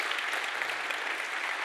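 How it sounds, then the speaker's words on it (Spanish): An audience at a 3D animation masterclass claps in a dense, steady burst of applause that stays even and continuous throughout, with no voices rising above it. "Un gran aplauso para Maxi, por favor."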